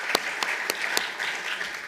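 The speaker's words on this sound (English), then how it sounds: "Let's give a final round of applause to all of the departments and all of the teams that presented here today" Applause from the audience at a Startup in Residence demo day rises as a broad wash of many clapping hands. A few louder, sharper claps stand out near the start, and the sound carries on steadily without talk.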